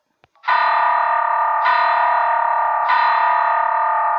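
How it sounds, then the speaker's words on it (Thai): Three sustained synthetic piano notes from a piano keyboard app ring out one after another, each bright and held with an electronic, slightly distorted tone, with no talking over them. "ในช่องของเปียโนเนี่ยมันก็จะเสียงประมาณนี้ครับ"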